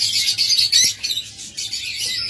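Pet cockatiels and lovebirds in cages chirp in quick, bright bursts, with several high tweets overlapping nearby in an irregular stream.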